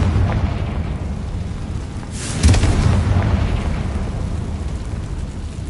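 A Confringo spell blast in a wizarding video game: one heavy, close explosion with a sharp onset, set in continuous loud rumbling noise that holds steady before and after it.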